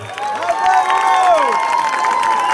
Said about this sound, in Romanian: Aplauze pentru Văru Sandel